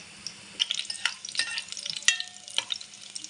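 Garlic fries in a pan for a crab curry, a soft crackling sizzle with sharp little pops and occasional stirring scrapes, moderately close.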